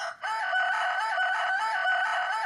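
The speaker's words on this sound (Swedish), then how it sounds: "Du är en riktigt fin tupp. Och du är duktig på att gala." A rooster crows in a single long, loud cock-a-doodle-doo after a brief pause, its bright, strained call held steadily to the end, heard close and alone without talk.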